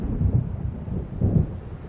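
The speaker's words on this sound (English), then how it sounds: "It seems there's a storm coming." Deep rolling thunder from an approaching storm in the video game Alan Wake Remastered, two heavy low rumbles swelling and fading over faint rain-like hiss, with no voices.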